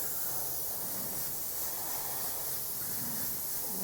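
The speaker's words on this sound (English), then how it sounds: "I'm going to spray more from the side now." Steady, continuous hiss of an airbrush spraying paint onto a game piece, close and even throughout with no pauses or voices.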